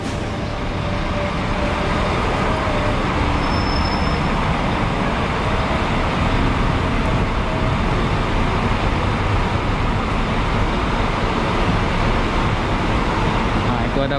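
Buses at Amanjaya bus terminal in Ipoh: a continuous wash of engine and roadway noise at a steady level for the whole stretch, with a faint voice in places.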